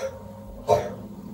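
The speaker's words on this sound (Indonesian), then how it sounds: "Adik aku lagi batuk-batuk tuh." A single short cough or throat-clear from a nearby person, one abrupt burst in an otherwise quiet indoor room.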